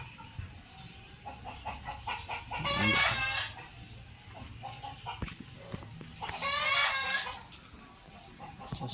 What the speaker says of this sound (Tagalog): Andun yung mga manok.